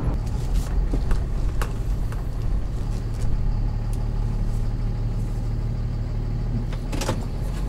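A diesel truck engine idles with a steady low rumble throughout, close by, with a few faint clicks and rattles on top.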